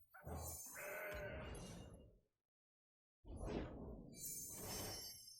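A goat from the card game Legends of Runeterra bleats twice, clean and close, two drawn-out wavering cries separated by a brief silence.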